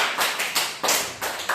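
Children clap their hands in a classroom in a short burst of sharp, evenly spaced claps, about five quick rounds, heard fairly close with no talking.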